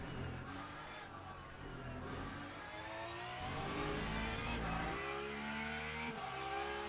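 Race car engine on a flying lap at Monza in the Le Mans Ultimate racing game, a steady high-revving drone climbing through the gears, each upshift dipping the pitch before it rises again, loud and continuous throughout.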